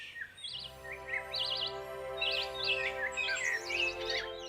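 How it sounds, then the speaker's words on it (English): Soft bell tones and bright chirping birdsong over a sustained, calm ambient music bed, steady and gentle throughout with repeated short trilling bird phrases. "You're just hearing like the soft sounds of bells and then just like birds and just like a really very zen music right now in the background."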